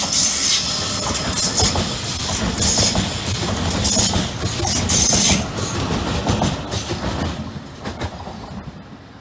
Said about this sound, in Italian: Attenzione, treno in transito al binario 1.